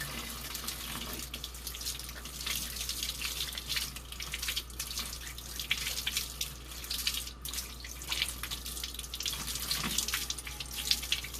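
Hands being washed and rinsed under a running tap, a steady close stream of water hissing into a sink with small splashes and drips throughout, no voices.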